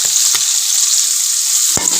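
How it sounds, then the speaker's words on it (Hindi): Peas and carrots fry in a hot pan, a loud, dense hiss of sizzling oil filling the whole moment, with a couple of brief knocks from stirring. "गाजर को आधा मिनट के लिए फ्राई करेंगे।"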